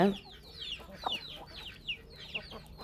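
Chickens cluck and chatter repeatedly at a moderate distance, with some brief chirps mixed in among the flock.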